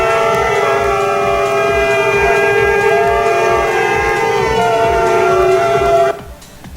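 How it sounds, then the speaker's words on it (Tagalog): Loud, sustained indigenous horns blown by protesters at Luneta in Manila blare together in a steady droning chord for several seconds, then cut off abruptly. "makikita ang isang grupong nag-ingay sa Luneta gamit ang mga indigenous horn"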